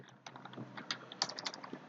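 Typing on a computer keyboard: a quick, irregular run of light key clicks, close by and fairly quiet, with no voices.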